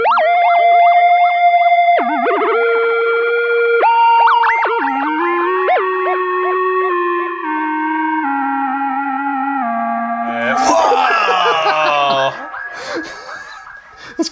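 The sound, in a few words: sung voice converted to synth sound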